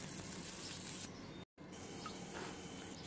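Potato pieces lightly frying in oil for a jackfruit and prawn curry give a steady, close hiss of sizzling that breaks off for a moment midway and then resumes.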